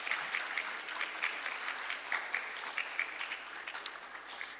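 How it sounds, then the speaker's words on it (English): Audience applause for the standing staff at Alpha Junior School's graduation ceremony, a fairly soft crowd clapping with scattered louder individual claps poking through, sustained throughout. "They deserve that round of applause"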